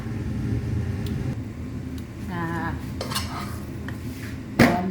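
Canned-fish chili paste is transferred into a bowl with scattered scrapes and light clinks of a utensil against dishes, then a sharp clank near the end, over a low background rumble.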